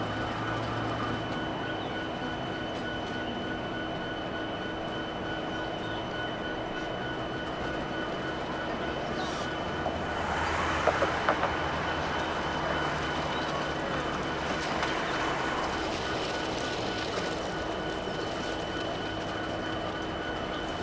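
An eastbound Norfolk Southern train passes through a mainline rail yard in Altoona, Pennsylvania, giving a steady, moderate rumble with faint tonal hums and a few brief clanks near the middle.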